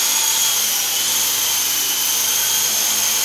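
A Volt X370 radio-controlled helicopter's rotor spins at a steady speed, making a constant high-pitched whine close by with no talking.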